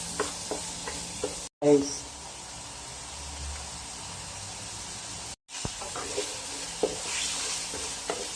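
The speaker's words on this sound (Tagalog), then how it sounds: "lagay tayo ng sibuyas" Onions sizzle and hiss steadily in a hot pan while a utensil stirs them, with two brief breaks and a short spoken word over the frying.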